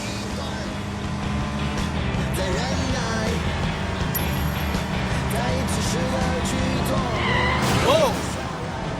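A car pulls away with skidding tires in the Sleeping Dogs video game, its engine and road noise steady and loud, with a brief squeal near the end.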